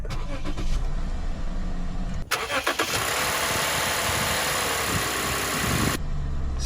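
A Lexus IS250 with a freshly installed battery cranks and fires into a loud, steady close-up engine run after a brief quieter stretch, then drops back down near the end.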